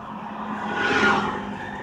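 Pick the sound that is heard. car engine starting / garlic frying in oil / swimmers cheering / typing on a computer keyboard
car engine starting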